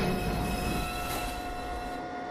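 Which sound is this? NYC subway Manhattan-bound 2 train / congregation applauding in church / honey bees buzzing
NYC subway Manhattan-bound 2 train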